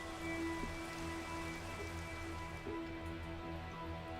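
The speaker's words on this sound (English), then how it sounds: "Oh, it's raining." Steady rain falls in Minecraft, an even, continuous hiss of drops on surfaces that holds at a constant level throughout, with a faint hum underneath and no voices.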